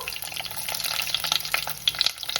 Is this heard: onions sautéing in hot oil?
yes